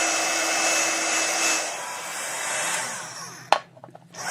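A heat tool blows a steady, loud whirring stream of hot air close by to melt embossing powder on a journal, then cuts off abruptly with a click near the end.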